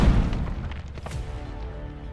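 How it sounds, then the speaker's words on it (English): A grenade blast in the Call of Duty: Modern Warfare 3 campaign, one heavy booming detonation up front that rolls off into a rumbling, decaying tail over about two seconds, loud and close. "He pulled a grenade out on death?"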